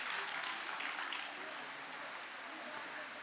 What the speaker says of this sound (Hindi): एक बार जोरदार तालियों द्वारा मैम का स्वागत।